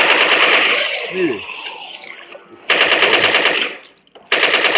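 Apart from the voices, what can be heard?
gunfire shooting zombies in video game Dead Effect 2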